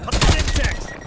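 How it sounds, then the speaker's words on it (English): A hostile sentry turret in Call of Duty Black Ops Cold War fires a short, loud, rapid burst of shots up close, lasting about a second. "Hostile sentry turret active."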